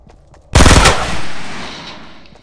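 A burst of automatic gunfire from a rifle in Fortnite, loud and close, a rapid cluster of shots over about half a second, then a fading echo and tail.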